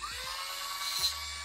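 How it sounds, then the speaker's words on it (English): A handheld Dremel rotary tool sands a resin light bulb mold piece, giving a steady high-pitched whine close by that lasts throughout, with brief low bumps as the tool presses against the piece. "I have my Dremel tool and I think I'm just gonna like sand this"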